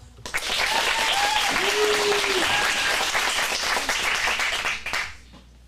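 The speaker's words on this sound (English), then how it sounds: "Let's give a round of applause." Loud, sustained applause and clapping from the audience at a teen acting script showcase in a Phoenix studio, a dense wash with a brief voice over it, cutting off sharply near the end.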